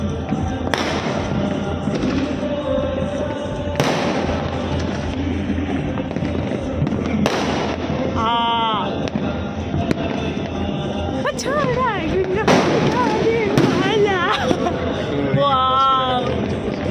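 New Year fireworks burst all around in the distance and nearby, a steady series of booms and crackles, some with whistling rises, under a person talking.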